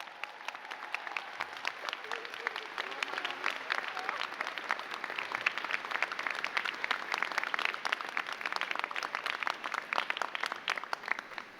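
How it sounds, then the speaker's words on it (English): A large commencement audience applauds for a long stretch, with dense, rapid clapping at a moderate distance and a faint crowd murmur underneath, holding steady throughout. "get on your feet and give them a round of applause for what they have done to make today"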